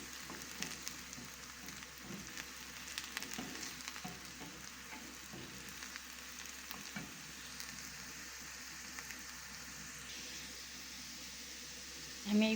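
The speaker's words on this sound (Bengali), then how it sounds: "আমি পেস্টটাকে লাল করে ভেজে নিব পুরো ভাইয়েরা" Spice paste fries in a pan until reddened for a lentil soup, giving a faint, steady sizzle with occasional soft stirring scrapes throughout.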